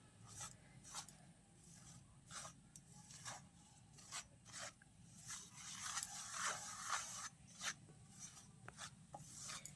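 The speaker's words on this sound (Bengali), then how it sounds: "এবার শুকনো উপকরণগুলো একবার মিশিয়ে নেবো হাত দিয়ে।" Dry ingredients for kadam nimki being mixed by hand in a bowl, a soft repeated rasping and rubbing in irregular strokes, close and quiet, with no talking.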